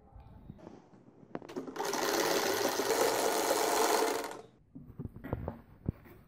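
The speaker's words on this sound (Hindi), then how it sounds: "अब मैं दूसरी साइड म्यानी की सीने लगी।" A sewing machine stitches baby pajama fabric in one steady, close whirring run of about two seconds, with softer handling clicks and light taps of cloth before and after it.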